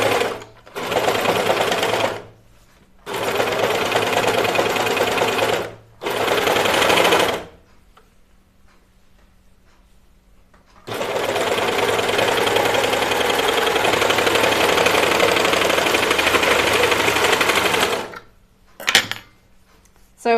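Cover stitch sewing machine running on a knit sweater in several bursts, a fast steady mechanical whir broken by short pauses and a longer quiet gap, then a final long run.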